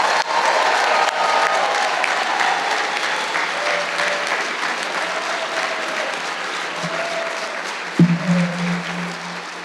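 A large graduation convocation audience applauds for graduating College of Humanities students, sustained loud clapping across the hall with a brief thump and low hum near the end.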